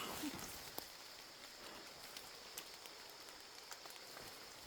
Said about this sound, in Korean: 자 비가 쏟아내서 안 되겠다